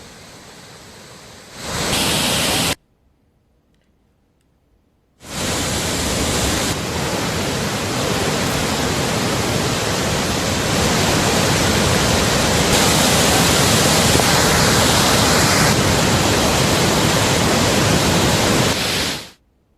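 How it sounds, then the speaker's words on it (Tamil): Heavy water gushes down the Hogenakkal Cauvery river and waterfall as a loud, steady broadband roar. It cuts out briefly to near silence, then returns and holds strong to the end. "ஒகேனக்கல் காவிரி ஆறு மற்றும் அருவியில் நீர் ஆர்ப்பரித்து செல்வதால்"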